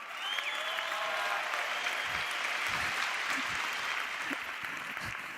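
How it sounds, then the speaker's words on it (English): Dense applause from a seated audience at a motivational entrepreneurship talk, a continuous wash of many hands clapping at fairly loud, even level, with a few scattered louder claps and a faint voice underneath. "some dude was clapping for it"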